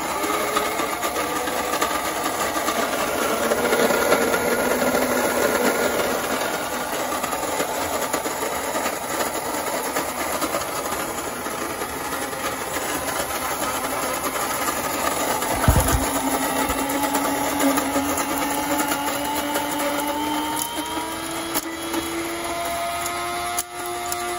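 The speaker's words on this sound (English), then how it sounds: "Take your beans to the grinder. Grind those bad boys up." Coffee beans being ground in an electric grinder early in the morning at home, a loud, steady mechanical whirring drone that runs unbroken for the whole stretch, with a brief thump partway through.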